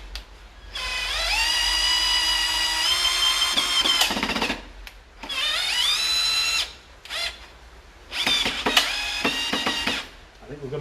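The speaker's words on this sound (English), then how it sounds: "that's solid oak. It's really heavy stuff to drive, and we're almost all the way in with this one" Festool TID 18 impact driver driving a screw into solid oak, three loud whining, rattling bursts separated by short pauses, with voices speaking faintly in between.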